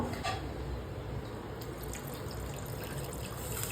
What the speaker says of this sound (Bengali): ওই জন্য একটু কম জল দিচ্ছি